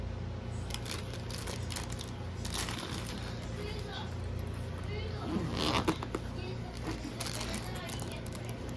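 A zipper being drawn closed on a travel bag, heard as a run of scratchy rasping bursts close by over a steady background hum, with a voice speaking at moments.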